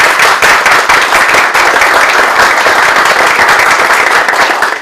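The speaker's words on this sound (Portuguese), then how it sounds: "Gostaria de pedir uma salva de palmas a" Dense, steady applause from a large audience at a psychology and democracy event, loud and sustained for the whole stretch with no voices over it.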